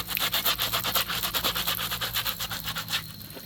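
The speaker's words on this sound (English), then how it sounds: "you can get a good grip on the shoes so you can get some good scrubbing action down there" A brush scrubbing shoes in quick back-and-forth strokes, a rhythmic rasping rub repeating about five times a second, close and loud with no talk.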